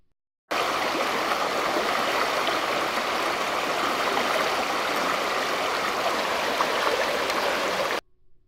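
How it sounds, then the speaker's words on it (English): River ripples and rapids flow in a steady, broad rushing burble, loud and close, holding constant for several seconds before cutting off abruptly, with no voices. "This is why ripples and rapids are a very important part of a river ecosystem."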